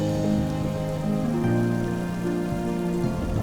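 Steady rain falling during a trip to Onna Village, Okinawa, near a hotel resort, a continuous dense wash with no voices, layered with a low hum and some background tones.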